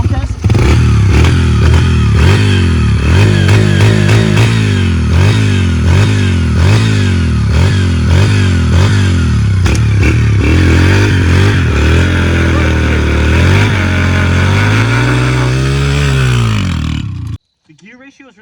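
Motorcycle engine idling and revving repeatedly as it warms up, loud and close with rising and falling revs and mechanical clatter, running steadily until it cuts off near the end.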